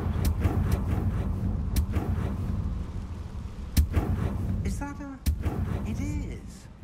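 Blasting spell cast in the Hogwarts Legacy video game, with sharp percussive bursts going off over a dense game backdrop of rumbling ambience and music, a voice speaking briefly between them.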